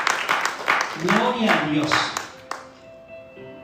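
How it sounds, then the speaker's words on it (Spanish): A church congregation claps in a quick, steady rhythm under a preacher's loud voice, with the clapping fading out near the end. "Es un aplauso para el Señor. Déjalo más fuerte."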